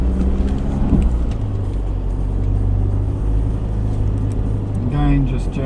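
A 4x4 off-road vehicle, tyres aired down to 22 psi, climbs a hill on gentle throttle, its engine a steady low rumble close by while people talk over it.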